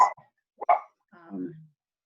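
A dog barks in short bursts, three quick close yips and woofs with brief gaps between them, loud against a quiet indoor background.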